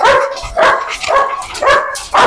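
A dog at a guard dog farm barks repeatedly, about five loud, close barks in a steady rhythm with short gaps between them.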